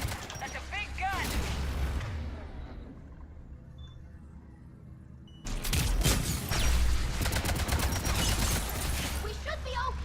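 Heavy weapon fire in Mass Effect 3 combat, booming blasts and rumbling bursts across the scene, a quieter lull in the middle before a loud barrage resumes, with speech mixed in.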